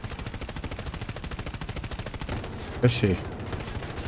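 Rapid gunfire in Battlefield 2042 rattles steadily through the clip as a dense automatic stream, with a louder burst near the end and a short spoken line over it.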